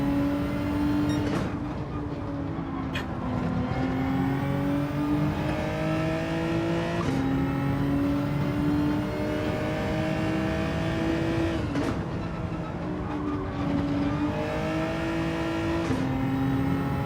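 Race cars in Gran Turismo 7 online lobby racing, including an Alfa Romeo 4C, with a loud sustained engine drone that repeatedly climbs in pitch through gear shifts, several cars running close together without talk.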